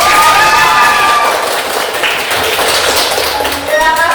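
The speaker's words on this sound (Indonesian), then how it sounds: "Tepuk tangan dulu." Classroom applause at the end of a school lesson, steady loud clapping mixed with cheering and children's voices throughout, close and crowded.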